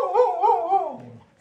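A dog lets out a drawn-out, wavering howl-like whine that rises and falls before trailing off into a low growl, close to the microphone.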